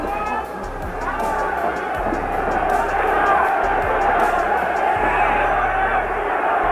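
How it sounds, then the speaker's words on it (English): Boxing crowd at a 1966 heavyweight fight, Muhammad Ali versus Karl Mildenberger, chanting and roaring continuously in a dense, loud wash of massed voices with rhythmic thumps underneath. "Crowd quite openly is chanting for action."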